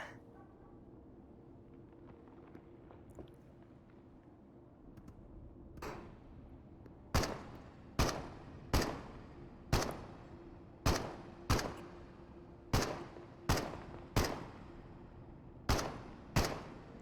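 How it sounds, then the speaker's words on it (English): Enemy gunfire in the shooter game Into the Radius: about a dozen sharp, loud shots in an irregular rhythm, each ringing out briefly, following several seconds of quieter background ambience. "He's over there shooting at me"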